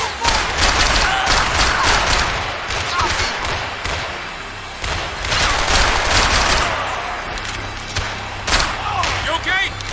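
Sustained, loud gunfire from Max Payne 3 as bursts and rapid shots pile up over ten seconds, with voices shouting over the firefight.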